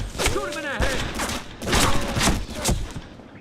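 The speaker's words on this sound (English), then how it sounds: "Shoot him in the head." Gunfire rings out in the video game Made Man as a rapid series of sharp shots, mixed with shouted game dialogue and effects.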